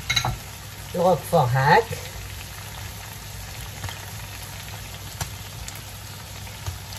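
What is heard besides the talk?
mushrooms sizzling while frying in a pan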